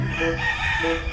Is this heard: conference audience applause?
no